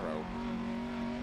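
A Lancia Fulvia rally car engine on an Argentina stage in Dirt Rally 2.0 holds a steady, droning mid-pitched hum, with a brief rising rev at the start, sustained and moderately loud.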